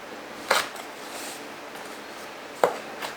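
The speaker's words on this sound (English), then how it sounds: "So we're going to dice this up like this." Vegetables being diced with a knife for spring rolls produce two sharp, separate chops on a cutting board, well spaced, over a quiet room.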